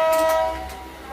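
A passenger train runs with a steady low rumble, and a bright tonal whine rings over it for the first half second before fading into the ongoing rolling noise.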